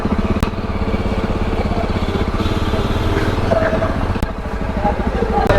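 A Jawa 42 Bobber motorcycle rides out of a traffic jam on a Delhi road, its engine droning steadily and loudly throughout, close and continuous, with faint ambient traffic behind.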